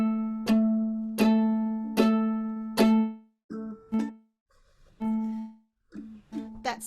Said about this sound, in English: That's the sound of the octaves with a pick.